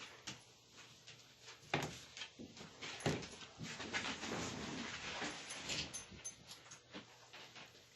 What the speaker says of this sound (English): My dogs are wrestling.